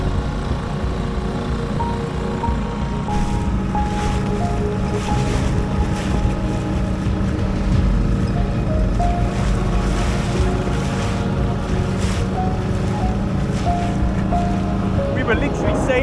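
A Drascombe Lugger dinghy sails in wind along the Anglesey coast, with constant gusty wind buffeting, water rushing and slapping against the hull, and occasional creaks, all loud and close throughout.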